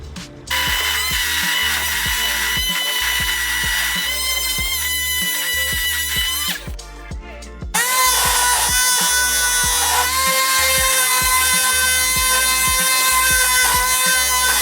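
Power sander working varnish off a piece of furniture with coarse 80 grit sandpaper, a loud steady whirring grind with rhythmic knocking, a brief drop near the middle before the sanding resumes at full strength.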